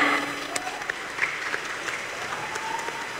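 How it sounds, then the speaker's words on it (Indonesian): An audience of female Islamic boarding school students applauding at a stand-up comedy show, steady clapping that stays even throughout, moderately distant. "tepuk tangan."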